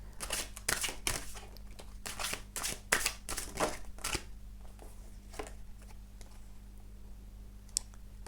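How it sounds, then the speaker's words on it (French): Oracle cards are shuffled and drawn from a deck, giving a quick burst of crisp riffling clicks for about four seconds, followed by a few soft card taps, close and quiet without talking. "Il faut encore que je vous tire une carte."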